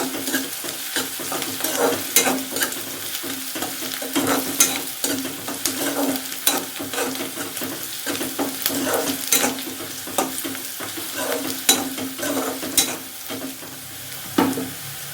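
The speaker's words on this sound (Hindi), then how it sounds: "उसके बाद डालेंगे इसमें अदरक और हरी मिर्ची, इसको पका लेंगे।" Ginger and green chilli fry in a pan with onions, sizzling steadily while a spoon stirs and scrapes often. The sound is close and fairly loud, with no one talking.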